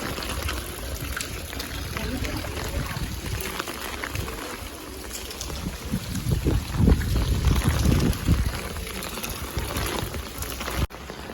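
Knee-deep floodwater rushes and churns steadily across a road, swelling louder midway, with a voice speaking at times over the flow.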